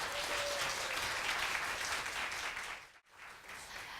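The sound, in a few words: audience applause at a Korean traditional music concert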